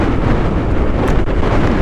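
Strong, dry wind buffets an outdoor microphone on a road in the Philippines, a loud continuous roar that fills the whole short stretch without any speech.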